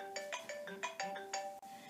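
A phone ringtone sounding for an incoming call, a bright melodic pattern of repeated electronic tones, moderately loud with no talking.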